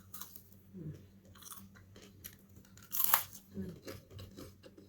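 Close, crisp crunching of a potato snack being chewed, with bursts of crackly bites over a low background hum.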